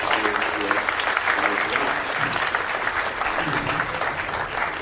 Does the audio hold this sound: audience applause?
yes